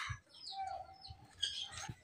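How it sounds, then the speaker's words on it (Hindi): A rooster and hen in a coop, giving scattered chirps and short clucking calls with low soft thumps, fairly faint and with no talk. "यहाँ पर हमारे मुर्गा खड़ा हुआ है और मुर्गी खड़ी है"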